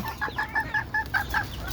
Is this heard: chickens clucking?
yes